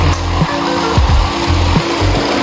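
A motorized Lego toy train running on its track, a loud close whirring motor with a repeating rhythmic clack roughly every half second as it travels.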